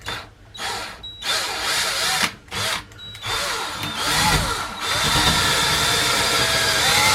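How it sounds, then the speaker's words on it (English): A power drill bores a small centering hole through a plastic grey water tank during a cargo trailer camper build. The drill runs close and loud in several bursts, ending in one long sustained run. "We'll put a little hole down through there just to make sure it's in the center."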